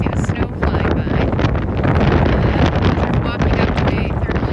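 Strong wind in northern Iceland, with snow flying, roars and buffets continuously against the microphone, a dense steady rush with no pauses.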